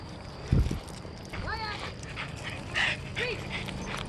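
A dog near a dog park whimpers and gives short high yips, with a brief thump early on, while a person talks nearby.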